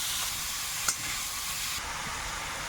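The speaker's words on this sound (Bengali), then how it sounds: "চিংড়িটা একটু ভেজে নিচ্ছি" Tiger prawns fry in a pan with a loud, steady, close hiss of hot oil and one brief clink partway through.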